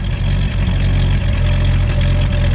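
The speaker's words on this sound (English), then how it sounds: "Go ahead, give it a rev. Let me hear that idle." A 1954 Packard convertible's 359 cubic inch straight-eight idles steadily and close by, a deep continuous rumble with a faint rise at one point and no talking over it.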